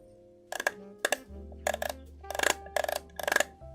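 Six crisp, loud plastic clicks of a camera lens cap in close succession, some doubled, with a faint low hum underneath in an otherwise quiet space.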